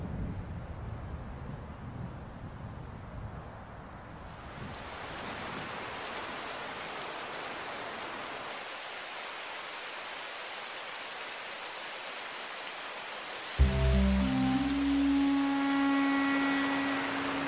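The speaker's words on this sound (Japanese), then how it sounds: "雨になっちまいやしたね。" Rain pours down in the anime Arashi no Yoru ni, a steady, dense hiss that continues throughout, with music joining near the end.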